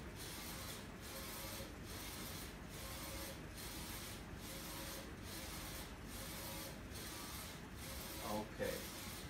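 A DTG T-shirt printer runs steadily, its print head sweeping back and forth in even passes about one second apart, with a brief mechanical clunk near the end.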